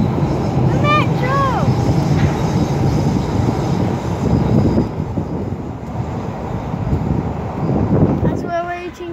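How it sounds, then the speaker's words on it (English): A metro train passes on a viaduct by a river, a broad rumbling roar filling the scene with a squealing screech of wheels near the start and end, while a child and an adult talk over it. "train. The metro!"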